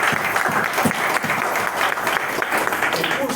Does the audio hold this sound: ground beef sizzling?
no